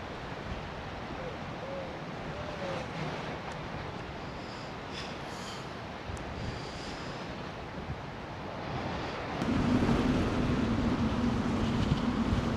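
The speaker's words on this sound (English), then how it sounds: "way too windy down here with the no break wall" Strong wind blowing along a lakeshore with no breakwall, buffeting the microphone in a rough, continuous rumble mixed with lapping waves, growing louder in a heavier gust toward the end.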